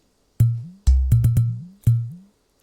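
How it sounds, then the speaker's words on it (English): Udu clay drum from Africa struck in an afrobeats pattern: deep, hollow, booming low strikes with a bending pitch, five hits spaced irregularly and heard alone. "African drum called Udu to it, so it sounds like this."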